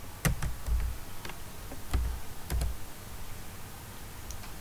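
Close clicks of a computer keyboard being typed on, a few sharp separate keystrokes spaced across a quiet room hum, with no talking.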